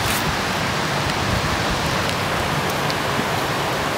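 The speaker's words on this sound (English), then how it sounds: "Hey, it's starting to rain out here." Rain falls steadily outdoors, a dense and even hiss of drops that stays constant throughout with no voices.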